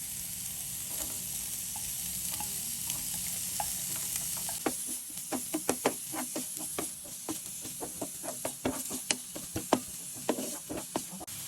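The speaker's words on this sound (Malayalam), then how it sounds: "നമ്മുടെ എണ്ണയിലേക്ക് കുറച്ച് സവാള ഇതുപോലെ ചോപ്പ് ചെയ്തത് ആഡ് ചെയ്ത് കൊടുക്കാം." Chopped onion goes into hot coconut oil in a pan, raising a steady sizzle with sharp crackles, and a utensil stirs and knocks against the metal in quick taps through the second half.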